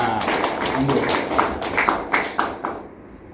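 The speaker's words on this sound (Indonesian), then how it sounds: "Oke, tepuk tangan buat teman kita" Classmates give a short round of applause for a fellow student, with scattered, uneven claps close by that grow sharper and sparser toward the end, under a background of voices.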